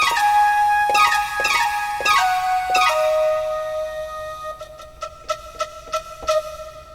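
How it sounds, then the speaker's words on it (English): A software synth emulating the vintage Roland D50 keyboard plays bright, bell-like notes with sharp attacks and ringing tails, first slower sustained notes, then a quicker run of short staccato hits, heard without talk. "reincarnation of the vintage D50"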